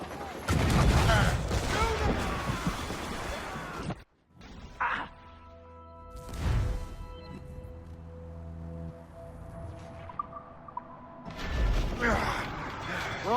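Naval cannons fired from sailing ships in Assassin's Creed Rogue, loud crashing volleys at the start and end and one burst midway, with sustained musical tones and ship creaks in between.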